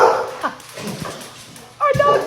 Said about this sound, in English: Our dog's a pug.